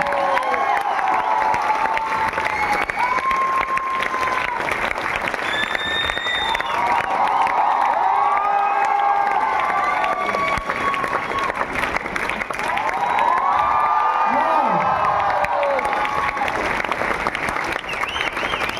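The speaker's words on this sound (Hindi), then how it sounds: "तालियां होनी चाहिए सिराजुल सर के लिए" A crowd claps loudly and steadily for Sirajul at a stage event, with scattered cheers and whoops and a voice rising over the sustained applause.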